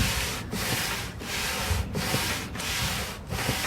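Hand sanding wood with sandpaper along the grain, rhythmic back-and-forth rasping strokes, about five passes close up, each a dense scratchy swish with brief pauses between, no talking.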